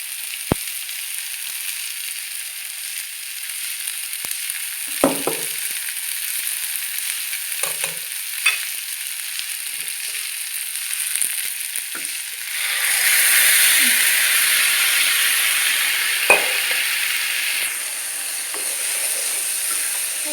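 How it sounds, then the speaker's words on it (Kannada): Ground masala paste with coriander and sambar greens fries in a pan for a coriander rice dish, a steady soft sizzle with occasional spoon scrapes and stirs, briefly louder midway. "ಹಸಿ ವಾಸನೆ ಹೋಗೋ ತನಕ ಫ್ರೈ ಮಾಡಿಕೊಂಡ್ರೆ ಸಾಂಬಾರು ಸೊಪ್ಪಿನ ಬಾತಿಗೆ ಗೊಜ್ಜು ರೆಡಿ ಆಗುತ್ತೆ"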